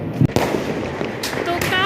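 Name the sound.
firecrackers bursting during Diwali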